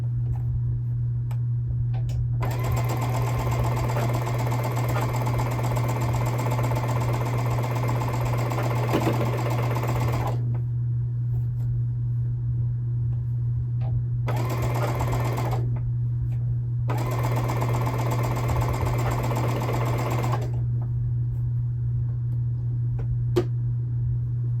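A sewing machine stitching a quilt square seam, a close, steady whirring run with rapid needle ticking in several bursts separated by short pauses, over a constant low hum.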